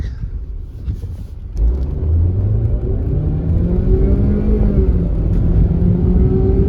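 A 2019 Ford Transit long-wheelbase van with a 2.5-litre four-cylinder engine drives along, giving a steady low engine rumble that rises slightly as it accelerates, heard from inside the cabin with no talking.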